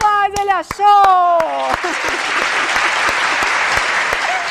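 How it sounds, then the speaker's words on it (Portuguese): A crowd in the street cheers with a shout, then breaks into loud, sustained clapping that continues to the end, with scattered voices underneath. "Palmas!"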